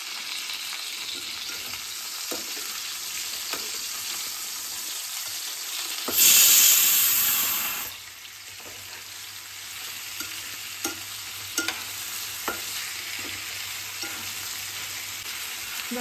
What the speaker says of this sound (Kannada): ಆಯಿಲಲ್ಲಿ ಇದನ್ನ ಚೆನ್ನಾಗಿ ಫ್ರೈ ಮಾಡ್ಕೋಬೇಕು ಗೈಸ್